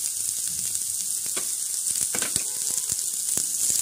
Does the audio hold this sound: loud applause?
no